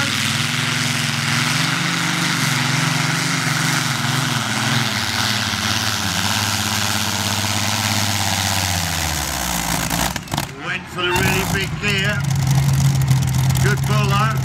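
A loud rocket car engine runs steadily and rises in pitch as it revs, then cuts out briefly before rumbling on, with a voice talking over it.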